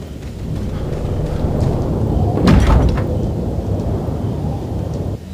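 A heavy sliding door in the Resident Evil 4 video game rumbles open with a low, grinding roll, a sharper clank near the middle, and a final thud as it stops.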